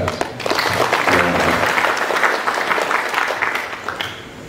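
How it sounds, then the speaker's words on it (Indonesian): Audience applauding at an opening ceremony of a large family association meeting, a dense burst of clapping from a crowd that swells quickly, holds strongly for several seconds, then thins out, close and loud. "Saya mengajak kita seluruh peserta memberikan aplaus kepada."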